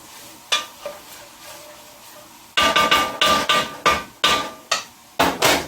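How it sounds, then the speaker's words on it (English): Vegetables being stirred in oil in a cooking pan, with a quiet stretch followed by a series of sharp, regular scraping and clattering strokes of the spoon against the pan, close and fairly loud. "you're going to give that a good stir"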